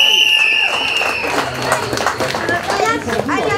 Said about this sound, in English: A round of applause please, Chris Widman.